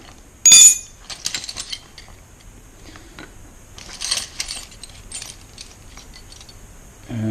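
Metal hand tools, a small cheap auto ratchet with sockets and spanners, clatter and clink as they are handled, with a sharp loud rattle near the start and scattered lighter metallic clicks and knocks throughout.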